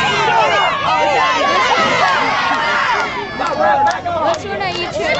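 A crowd at a wrestling tag match cheers and shouts loudly and continuously, high excited voices overlapping in a dense roar that dips briefly near the end.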